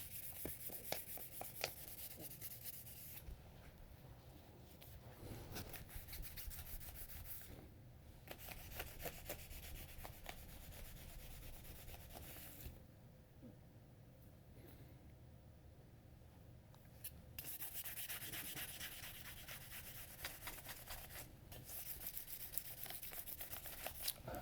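A Moritaka gyuto kitchen knife blade is rubbed by hand to polish it, giving quiet, close, rhythmic scraping strokes in repeated bursts with brief pauses between them.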